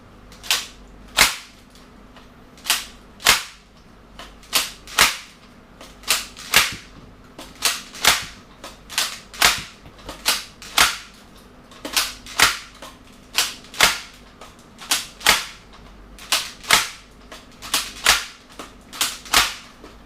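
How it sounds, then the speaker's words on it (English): A BoomCo Mad Slammer toy blaster fires a long string of sharp, close snapping shots, roughly one or two per second in uneven bursts, loud and alone with no talk. "So let's just fire off a few rounds."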